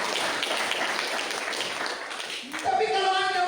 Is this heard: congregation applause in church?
yes